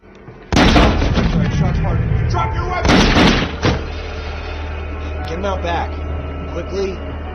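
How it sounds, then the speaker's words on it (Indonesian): Two sharp, loud pistol-like bangs about two seconds apart ring out over voices and a busy background, followed by lower scuffling and talk. "terdengar suara letusan pistol"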